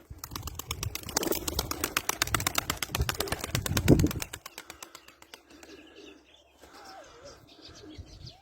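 Domestic pigeons, including white young birds, are released to fly, with a rapid clatter of flapping wings close by that fades after a few seconds into softer cooing and chirps.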